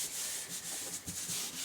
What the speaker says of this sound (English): Just going to burnish that a little bit.